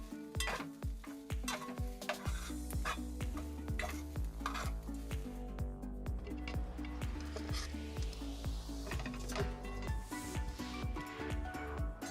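A spoon stirs a tablespoon of masala with ginger, garlic, poppy seeds and coriander in a pan for a goat blood fry, scraping and clinking repeatedly over a steady sizzle, close and fairly loud, with no talk.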